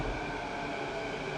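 An outbound SkyTrain passes near a station in Richmond, a steady, loud broadband rumble with a constant hum, continuous across the whole moment with no voices.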